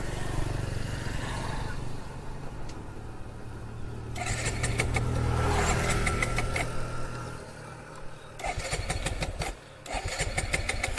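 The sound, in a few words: Suzuki Gixxer motorcycle engine failing to start, out of fuel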